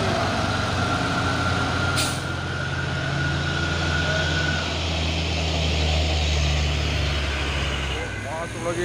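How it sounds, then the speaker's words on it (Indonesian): A UD Trucks box truck rumbles past nearby with a loud, low engine drone, steady tonal whine and a sharp hiss burst of air brakes partway through, under ongoing road noise. "Masuk lagi nih ya, truk box UD Twister ini."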